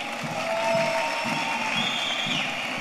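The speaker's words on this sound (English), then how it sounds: "A round of applause for the teams of athletes from the Republic of Uganda" Continuous applause from a large outdoor crowd greets athletes from Uganda at a police games opening ceremony in Kigali, steady and moderately loud with a faint whistle-like tone riding over it.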